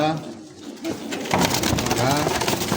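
Pigeons cooing nearby at a pigeon sale in Bangladesh, throaty repeated coos with someone talking over them.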